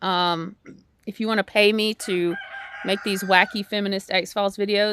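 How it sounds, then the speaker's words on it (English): Backyard chickens cluck faintly in the background, their calls largely buried beneath a woman's continuous close-up talking. "you can hear my chickens in the background there."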